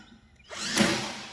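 A DeWalt impact driver drives screws into a Harbor Freight Yukon garage wall cabinet, starting after a quiet moment and rising into a short, close, loud whirring burst.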